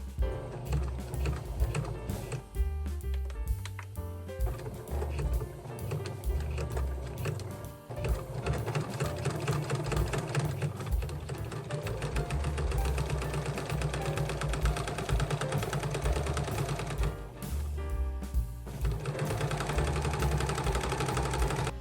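A sewing machine stitches a zippered make-up pouch, running steadily with a dense rapid mechanical patter at close range, with only brief pauses where the stitching stops for a back stitch.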